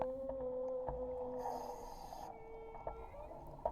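Whale song beneath the sea: a sustained low tonal moan followed by higher drawn-out calls, faint and remote, with a brief hissing wash and a few soft knocks.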